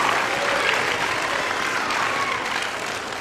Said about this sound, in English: Round of applause for Riley